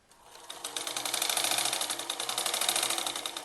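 A sewing machine stitches a kurti in one steady, close-up run. A fast mechanical whir builds from quiet and holds even, with no voices.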